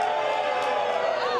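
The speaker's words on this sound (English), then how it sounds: "Bit of an ovation for Ricky." A wrestling crowd cheers and applauds for Ricky Starks, a steady wash of ovation noise throughout, with a commentator's voice mixed in.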